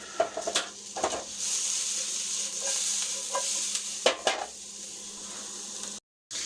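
Homemade crab sauce simmering in a pan, a steady soft sizzle and bubble with a few utensil scrapes and knocks, close and fairly quiet, ending in a brief cut.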